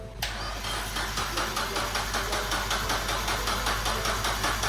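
A project car engine cranks repeatedly with a rhythmic, pulsing starter churn that never catches, loud and close throughout.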